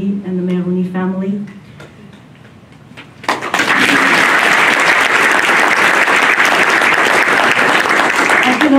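A voice speaks at a university installation ceremony for a presidential chair in Armenian studies, then a pause, then a hall audience breaks into loud, sustained applause that carries on to the end.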